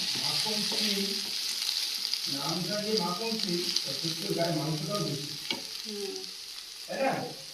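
Potatoes and flat beans cook in oil over low gas, giving a continuous gentle sizzle with occasional stirring knocks and scrapes up close.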